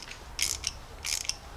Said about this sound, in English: we're going to either take a 5/16 or 8mm socket and just kind of thread it in